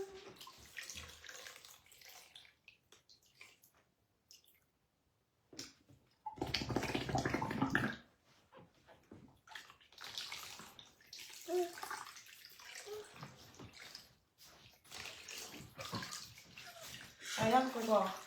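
Water splashing and pouring as a baby is bathed in a tub, with intermittent bursts of sloshing between quieter gaps and people talking throughout.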